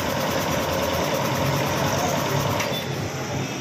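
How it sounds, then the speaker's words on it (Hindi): A Godrej 1 hp single-phase, double-piston air compressor with a 45-litre, 150 psi tank runs nearby, giving a loud, steady mechanical drone with a dense buzzing rattle that holds even from start to finish. "एक एचपी डबल पिस्टन, एक एचपी का गोदरेज का मोटर है सिंगल फेस, और 150 पाउंड की टैंक है 45 लीटर का"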